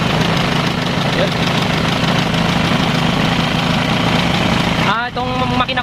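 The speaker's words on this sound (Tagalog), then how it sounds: "4XL1 Isuzu 4XL1 engine." An Isuzu 4XL1 diesel engine runs steadily at a rough, knocking idle, loud and continuous throughout, with a brief voice near the end.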